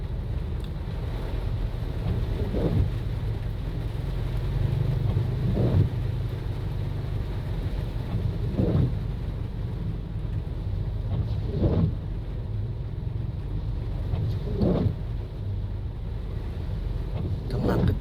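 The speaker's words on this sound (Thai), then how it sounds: "พายุฝนเข้าเวียงจันทร์ยามแรง" Heavy rainstorm in suburban Vientiane in the evening, with a steady roar of rain and wind and several low swells of passing traffic or distant thunder spaced every few seconds.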